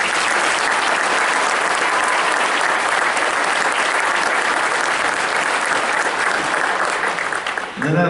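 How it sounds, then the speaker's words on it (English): An audience at an indoor marching band concert applauds, dense sustained clapping filling the hall, close and loud, tapering as a voice begins at the end. "So let's give them a round of applause."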